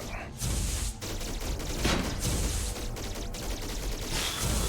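Continuous rapid bullet fire in the VR shoot 'em up game Antiprism, a dense, loud stream of overlapping shots with brief pauses, alone without voices.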